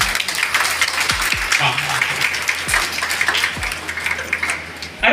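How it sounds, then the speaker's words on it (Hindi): An audience at a nursing college's International Nurses Day event claps in a dense, uneven patter, with a few thumps and a brief spoken word over the applause. "तालियां हो जाए।"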